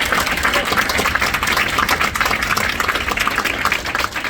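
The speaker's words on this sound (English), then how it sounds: "So we'll give her a round of applause for her leadership." Audience applause for New York Governor Hochul fills the room, with dense sustained clapping at a steady level from start to finish.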